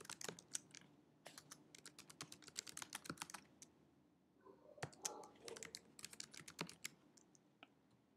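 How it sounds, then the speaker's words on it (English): Rapid typing on a computer keyboard, with irregular bursts of crisp key clicks and brief pauses, close and clear with no talking. "type the title of the textbook using italics"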